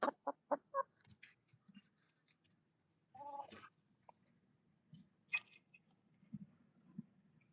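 Backyard chickens, a rooster and his hens, cluck softly in the morning: scattered short clucks and murmurs, some closer bursts, with quiet pauses and faint pecking in between.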